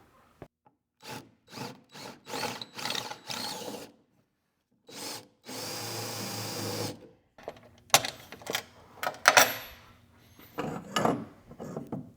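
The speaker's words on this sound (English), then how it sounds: "Let me grab a drill bit and we'll drive that through." A series of short raspy bursts like sawing or rubbing on wood, then a steady few-second whir of a power drill driving a bit through a Cushman Trackster hitch, followed by scattered scraping and clunks.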